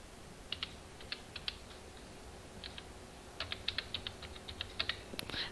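Keys clatter on a computer keyboard as a number is typed in, in soft, irregular bursts of quick keystrokes with short pauses, faint and close, with no talking.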